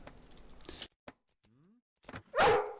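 A dog in the video game Mount & Blade: Warband gives a single loud, close bark near the end, after scattered short game sounds and brief silences.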